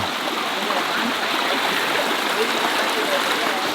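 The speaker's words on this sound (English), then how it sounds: "the water has never flowed this much" Stream water rushes steadily past a stone house in Portugal, swollen with recent rain; a broad, continuous, fairly loud wash of flowing water fills the whole stretch without any spoken voices.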